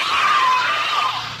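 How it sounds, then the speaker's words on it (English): Children shriek and shout together in a loud, continuous burst of high-pitched playful noise, fading slightly at the end. "That's the sound of children at play."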